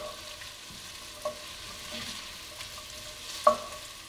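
Cabbage sautéing in a pan over medium heat, a soft even sizzle with a couple of sharp utensil taps against the pan, close and without talk.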